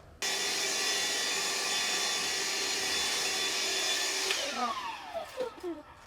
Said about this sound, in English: Careful not to suck things up into the vacuum cleaner.